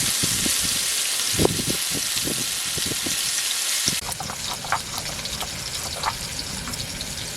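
Pumpkin slices fry in hot oil with a steady hiss and scattered crackles and pops, close by and continuous, with the texture shifting partway through.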